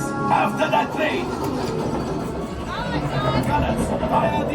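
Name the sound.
train on Star Wars Smuggler's Run ride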